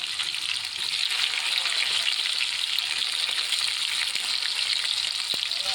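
Steady, close sizzle of chopped onion frying in hot oil with mustard seeds and curry leaves in a pan for a mixed vegetable dish, a dense continuous hiss with faint stirring ticks and no talk.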